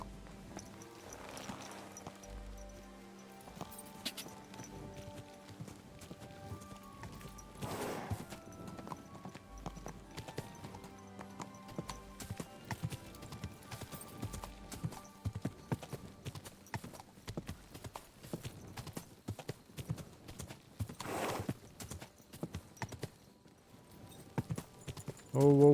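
A horse walks and trots in the video game Kingdom Come Deliverance 2, with clear rhythmic clip-clop hoofbeats throughout, close and moderately loud, along with an occasional snort or whinny and no talking.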